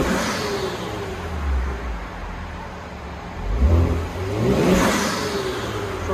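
A 2018 Kia Stinger GT's 3.3-litre twin-turbo V6 revs up twice in deep swells, with a turbo whoosh riding over the steady low rumble, loud and close.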